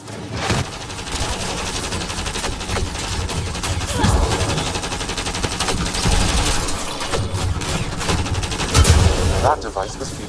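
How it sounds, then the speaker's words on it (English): Sustained, loud gunfire in a Mass Effect: Andromeda firefight, dense rapid bursts of shots layered with explosions and combat effects, continuous for the whole stretch. "Shooting the device will destroy it. We've got targets!"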